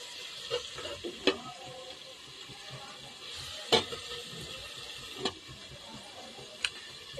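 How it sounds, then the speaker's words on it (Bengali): Capsicum and onion frying in a pan, a soft steady sizzle with occasional clicks of a spatula or spoon against the pan as the vegetables are stirred, close and fairly quiet. "এই যে ক্যাপসিকাম, পেঁয়াজ একটু ভাজা ভাজা করে নিচ্ছি।"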